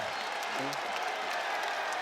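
A basketball arena crowd cheers and applauds after a hustle block in a college game between SMU and Virginia Tech, a steady distant roar of clapping and shouts under a commentator's voice.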